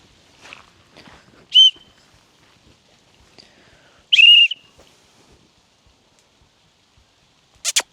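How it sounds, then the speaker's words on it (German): A whistle blown outdoors on a muddy smallholding in Bavaria to call horses and dogs: two sharp, loud tonal blasts a few seconds apart, with soft footsteps and scuffing between them and a brief final burst at the end. "Ich muss mal kurz meine Pfeife holen"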